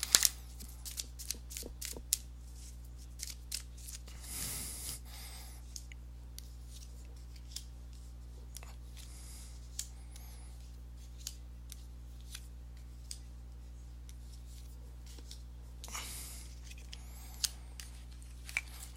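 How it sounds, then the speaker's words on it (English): Tarot cards are shuffled up close with rapid crisp riffles and flutters, two longer swishing bursts breaking the clicking rhythm over a steady low hum, with no talking. "let me go ahead and give these cards a shuffle"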